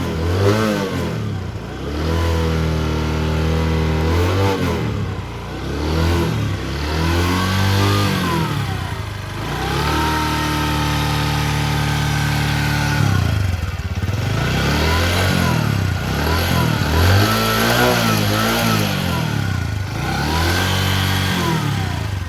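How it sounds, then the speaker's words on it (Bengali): A used Bajaj Discover 110cc motorcycle idles in neutral and is revved repeatedly, the engine note climbing and falling in a series of smooth, close throttle blips with a steady idle between them. "এখন গাড়ি স্টার্ট দেওয়া হচ্ছে।"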